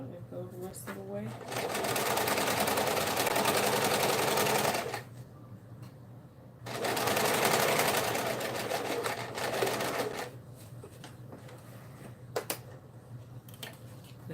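A sewing machine stitching a tote bag in two sustained runs of rapid, even whirring, separated by a pause, with a person talking throughout.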